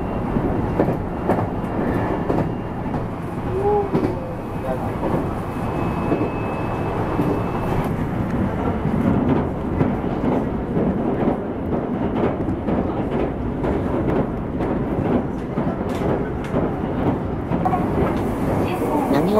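From aboard a train leaving Ayabe on the San'in Main Line, a passing two-car Kitakinki Tango Railway KTR8000 series train brings steady rumbling and rail clatter that run continuously, with faint voices in the background.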